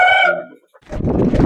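A Kaki Daga breed fighting rooster at a Pongal-season bird market lets out the brief tail of a crow, followed by a burst of rough, noisy background commotion.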